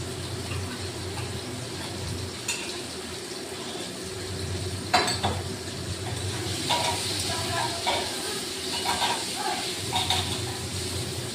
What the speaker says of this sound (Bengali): এখন আমি এতে আলুগুলোকেও এই তেলে ভালো করে ভেজে নেব